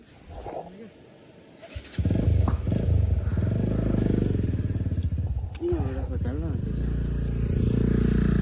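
A motorcycle engine rumbles loudly and steadily after a quieter start, with voices talking over the engine noise.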